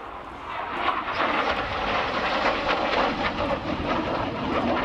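A Hawker Hunter T7A jet roars past at a naval air day, a broad rushing, rumbling engine noise that swells and holds at moderate loudness, heard from a distance outdoors.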